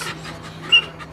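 A dog being trained for military work pants rapidly with a brief high whine, close and fairly loud, over a low steady hum.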